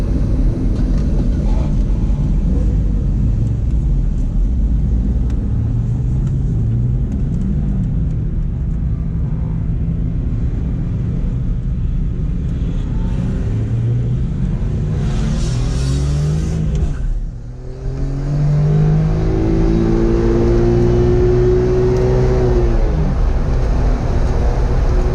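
Race cars of the HPD 1 group heading out onto the track, a loud continuous engine roar and rumble that dips briefly and then rises again with shifting engine pitches, with no talking.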